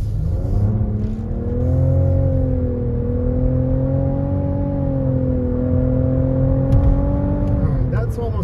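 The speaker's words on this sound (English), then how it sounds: "we're gonna try real acceleration in sport mode" A 2022 Hyundai Tucson or Nissan Rogue SUV in sport mode accelerates hard from inside the cabin, its engine tone rising steadily and holding a smooth, loud drone for about eight seconds, with no talk over it.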